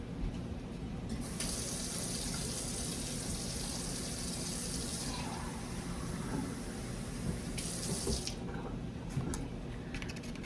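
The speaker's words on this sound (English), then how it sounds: "then I'm gonna fill this with some warm water." Warm tap water runs steadily into a container, a continuous splashing hiss that shifts in tone as the vessel fills.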